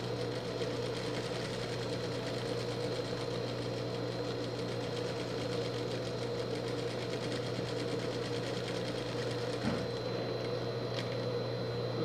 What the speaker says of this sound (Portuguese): Coloco meu ponto no 2 para ficar bem pequenininho e venho costurando em cima